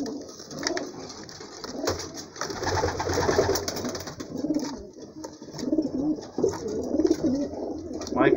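Homing pigeons coo repeatedly in a loft, soft rolling calls rising and falling close by over a low background hum, with a few faint scuffs and wing sounds.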